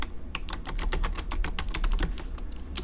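A rapid run of keystrokes on a computer keyboard entering a player name into a text adventure game, steady, close clicking for about three seconds, with no voices.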